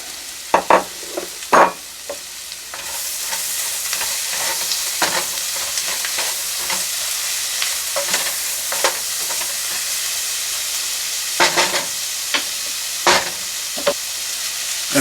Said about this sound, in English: Now we're going to add the mushrooms.